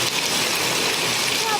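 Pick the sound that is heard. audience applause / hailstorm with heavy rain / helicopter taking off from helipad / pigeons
hailstorm with heavy rain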